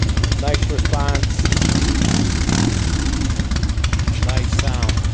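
A 1995 Harley-Davidson Heritage Softail with a freshly fitted exhaust idles steadily with a low, loping rumble, loud and close, with speech-like sounds over it.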